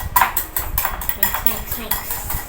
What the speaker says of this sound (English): You have to mix fast.